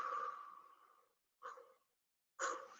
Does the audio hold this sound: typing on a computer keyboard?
no